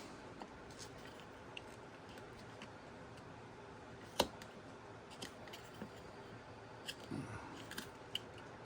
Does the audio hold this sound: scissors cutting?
yes